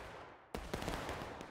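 A sudden ragged volley of musket fire bursts out on command in the War of Rights game, a sharp crack followed by a string of overlapping shots and echoing rumble, loud against a quiet background.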